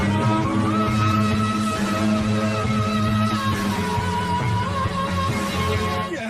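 A thin, feeble imitation of a police car siren drones continuously with slight wavering, sounding weak and unimpressive rather than loud and piercing.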